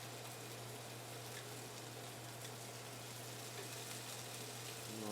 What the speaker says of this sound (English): You can hear that good sear happening.